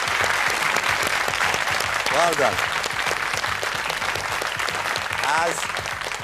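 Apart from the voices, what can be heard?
studio audience applause on a quiz show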